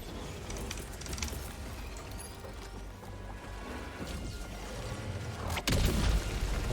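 A rail cannon strike in Helldivers 2 lands amid distant booms and mechanical clatter, then a sharp heavy blast hits near the end, followed by a louder rumbling aftermath.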